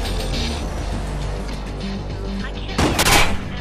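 Gunfire in Watch Dogs, a burst of shots near the end over a steady game background of engine-like hum.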